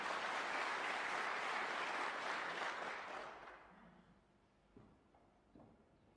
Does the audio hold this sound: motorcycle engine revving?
no